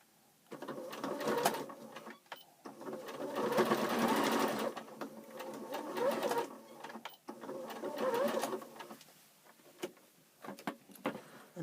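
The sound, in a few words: sewing machine stitching across a gap in pyjamas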